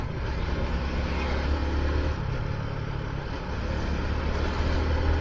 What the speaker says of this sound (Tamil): டிராஃபிக் அதிகமாக இருக்குது